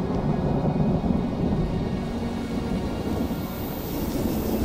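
A thunderstorm brings the first rain onto a parched desert in southern Africa: a steady, full wash of falling rain under a deep, continuous rumble of thunder, close and even throughout with no voices.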